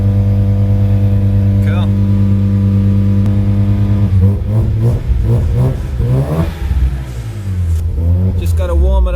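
A Mazda FC RX-7 rotary engine in a drift build revs repeatedly in several sharp bursts after a steady idle, close and loud, with a person speaking briefly over it.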